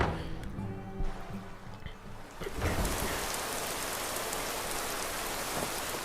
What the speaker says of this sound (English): I mean, the rain could be worse.